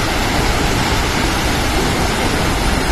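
Athirappilly Falls, the largest waterfall in Kerala, roars as a loud, steady broadband rush of falling water, close and continuous without a break.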